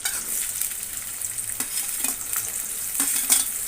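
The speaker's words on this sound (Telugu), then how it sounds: "ఇప్పుడు ఆనియన్ యాడ్ చేసుకోవాలి ఆయిల్లో" Onion sizzles in hot oil in a kadai for a cauliflower curry, a steady close crackling hiss with occasional stirring scrapes and light clicks, no talking.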